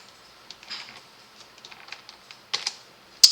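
Computer keyboard keys pressed while drawing a brick-style car illustration: soft, light clicks in an irregular scattering, a couple of firmer taps near the end, quiet and close.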